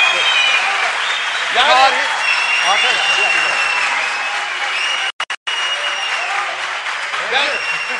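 Applause in a parliament chamber, a steady wash of clapping from many hands with voices speaking over it.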